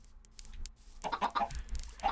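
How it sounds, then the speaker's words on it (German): Chickens on a Minecraft chicken farm in a video game cluck in short repeated bursts, quiet at first and then a busier run of clucks over the second half. "Ja, das gefällt mir mit der Hühnerfarm hier."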